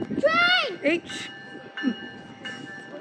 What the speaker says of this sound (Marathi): माझ्या मागून ट्रेन चालली आहे, ऐकून येणार